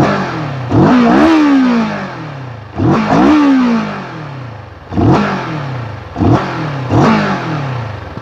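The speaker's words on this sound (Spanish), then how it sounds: "así estaría sonando la moto Morini SSR 650" A Moto Morini SCR 650 motorcycle engine revving up in repeated sharp blips, each rising and falling back to a rough idle, loud and close with no talking.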